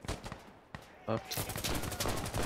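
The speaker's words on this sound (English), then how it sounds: "Oh, I almost shot you, mate. Okay, this shotgun has range." A shotgun fires in the Insurgency Sandstorm video game: several sharp, loud blasts come in quick succession over the second half, following an earlier single report, with someone talking in between.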